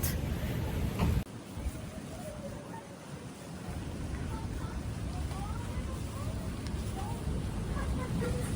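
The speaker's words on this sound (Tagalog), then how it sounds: "rinig na rinig ko talaga yung tunog ng dagat" Steady rush of sea waves and surf at a beach resort in Pagudpud, North Luzon, with wind noise against the microphone, a sharp bump near the start, constant wash throughout.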